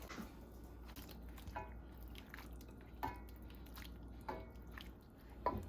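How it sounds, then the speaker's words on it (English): Teriyaki sauce being poured over chicken wings in a pan, a faint run of soft wet squishes and drips with a few sharper splats spaced about a second apart, close and quiet, with no talking. "I'm going to continue pouring the sauce over the chicken."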